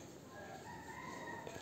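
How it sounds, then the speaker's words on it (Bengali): A rooster crows in the distance outside a shop at early morning, a faint drawn-out call over a steady background hum. "এদিকটা দেখো মোরগের মানে মুরগি বলে মোরগ বলে আওয়াজ আসছে, ডাক"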